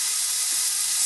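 Teriyaki noodles with salmon, mushrooms, spring onions and ginger cook in a pan, giving a steady, bright sizzling hiss, close and continuous for the short moment, with no talking.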